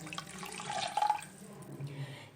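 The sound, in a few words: two cups of water poured into soup pot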